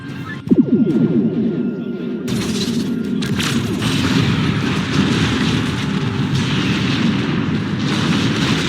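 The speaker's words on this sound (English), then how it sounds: "Arm photon torpedoes. Photon torpedoes ready. Fire." Star Trek Discovery photon torpedoes fire in a loud booming burst, followed by a sustained, dense rumbling roar of weapons fire with no speech.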